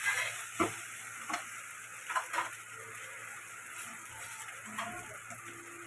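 Pasta tipped into a pan of browned, fried onions gives a soft, low sizzle broken by a few short clicks and scrapes, fairly faint and without any talk.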